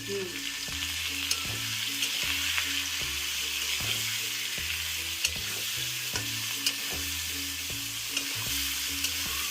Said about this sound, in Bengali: হলুদ গুঁড়ো দিয়ে দিলাম। নাড়াচাড়া করবো। এবার ভালো করে নেড়ে দিতে হবে।